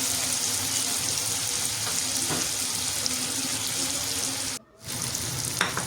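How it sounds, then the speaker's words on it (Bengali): Chopped onions frying in oil in a pot, a loud continuous sizzle that runs throughout and briefly drops out near the end. "এবার একই পাত্রে আরও কিছুটা তেল দিয়ে নিব এবং এর মধ্যে দিয়ে দিব পেঁয়াজ কুচি"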